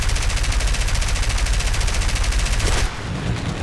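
Rapid machine gun fire in the aircraft combat game War Thunder, a dense, fast rattling burst that drives on steadily for almost three seconds, then cuts off into quieter engine drone.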